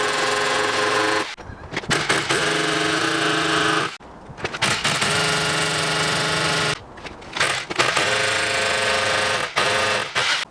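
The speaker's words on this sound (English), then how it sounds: "I use my SES drill to make the holes in the wall." An SES power drill bores holes into a wall in loud, sustained grinding bursts, broken by three short pauses as the trigger is released and squeezed again, with no talking.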